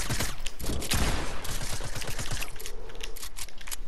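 Dense, loud gunfire fills a Fortnite 1v1 match, with rapid overlapping shots and clattering impacts that continue almost without a break.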